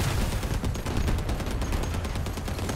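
Steady, dense barrage from a bot's artillery in the vehicle combat game Crossout, rumbling continuously and loudly without pause, close and heavy, with no voices.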